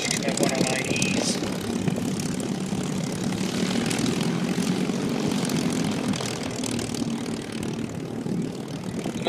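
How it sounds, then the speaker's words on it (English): A Spitfire fighter flies at an air show in Chino, its propeller engine droning steadily and loudly throughout with crowd noise and some talk beneath it. "Another look at this Spitfire."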